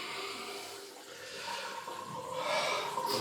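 Water gurgling and draining out of a sink, a soft swirling rush that grows louder toward the end.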